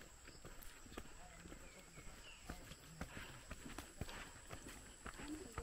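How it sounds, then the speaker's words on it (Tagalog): Horse walking along a river road near Maramo River, Norzagaray, Bulacan, quiet, rhythmic hoof clops over steady outdoor background noise, fairly distant. "Guys, there is a horse."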